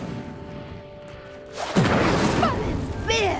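A fiery Incendio spell blast in the video game Hogwarts Legacy bursts in midway, a loud whooshing flare of flame with crackling sweeps, rising over a steady game background and staying strong to the end.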